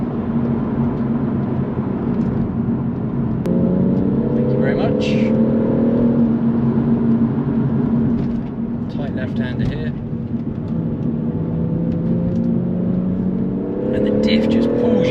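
BMW M140i pulling hard through a bend under power to the rear wheels, a loud continuous engine drone heard from inside the car, rising in pitch as it accelerates, with a person talking over it throughout.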